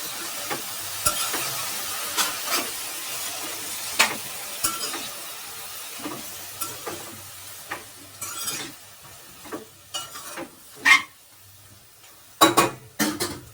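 Broad beans and tomatoes stirred in a pan with a spoon, giving irregular scraping and clinking taps against the metal over a soft, steady sizzle, near and fairly quiet.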